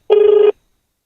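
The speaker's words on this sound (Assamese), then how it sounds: "তো ফোনটো কৰিছো, কি হয় চাওঁ" A phone rings once on an outgoing prank call: one short, loud, warbling electronic ring burst, then silence.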